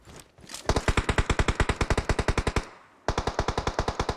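Rapid automatic gunfire from a shooting video game rattles out in a steady burst, pauses briefly, then resumes at the same quick rhythm, loud and close with no voices.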